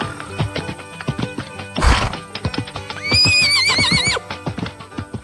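A horse gives one loud, wavering whinny inside a stable, rising clearly above a steady background of hoof clatter and shuffling, with a brief burst of rustling noise just before it.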